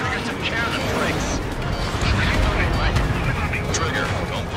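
Missile impact explosion in the Ace Combat 7 video game, a Rafale M fighter striking enemy air defenses: a dense, continuous roar of blasts and rumbling debris that stays loud throughout.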